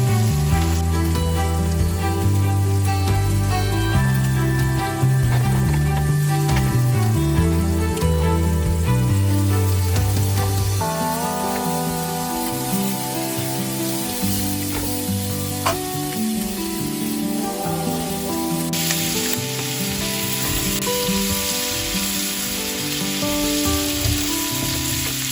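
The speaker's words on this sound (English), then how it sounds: "Now we're gonna let this thing sear for about 3 minutes on each side" A steak sears in a Wagner 1891 cast iron skillet at an off-grid cabin, giving a steady, dense sizzle and crackle that runs without break throughout, close up and loud, with no one speaking.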